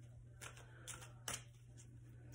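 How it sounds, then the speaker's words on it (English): A deck of tarot cards is shuffled briefly for a reading, giving a few soft riffling bursts close by with pauses between them, quiet and alone under a low steady hum. "So let me just do a quick shuffle."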